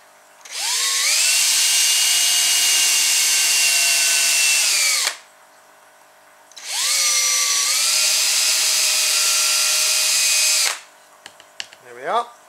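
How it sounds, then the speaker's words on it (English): An electric drill with a 2.5 mm bit bores two holes in wood for a toy acrobat, whining in two long, steady bursts of about four seconds each, with a brief quiet gap between them and a little handling noise at the end. "So we'll just drill those 2 holes."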